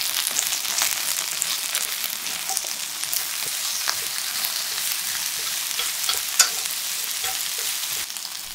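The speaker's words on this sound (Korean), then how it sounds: "참기름 2스푼 두르고 썰어놓은 양파 다진 마늘 넣고 잘 섞어주며 볶아주고" Eggplant stir-fries with sesame oil, sliced onion and minced garlic for a Korean seasoned side dish, giving a continuous close sizzle broken by light stirring scrapes and clicks throughout.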